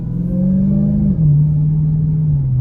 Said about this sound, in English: So starting the test drive in this Challenger Jailbreak, it just sounds so good.